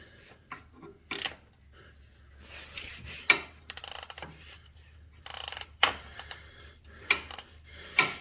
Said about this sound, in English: we're going to put the wrench on it and give it, a quarter to a half turn.